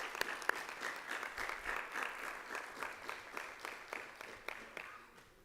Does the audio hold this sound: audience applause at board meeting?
yes